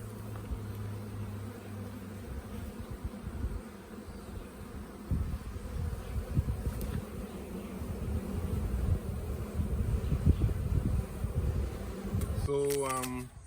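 Honey bees swarming around an observation hive in Dominica hum as a steady, dense drone throughout, with rustling handling noise and a brief clatter near the end.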